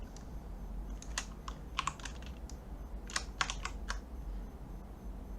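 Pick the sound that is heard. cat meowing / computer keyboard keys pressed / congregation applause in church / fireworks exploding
computer keyboard keys pressed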